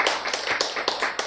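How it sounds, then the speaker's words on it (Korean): Audience clapping at a Korean health lecture on consciousness, a brief burst of several hand claps with uneven taps, fairly close and on its own with no talk. "박수."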